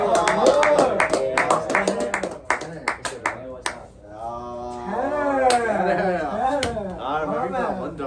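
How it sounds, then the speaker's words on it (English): A small group gives a brief round of applause for a guest joining a casual talk show. The claps are sharp and close for about three seconds before fading, then people talk. "Let's give him a little round of applause"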